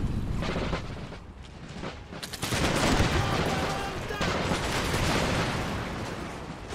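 Rolling musket fire from the left squad joins a video game battle between the Duchy of Savoy and the Kingdom of France, dense overlapping volleys surging loudly and rumbling on without pause.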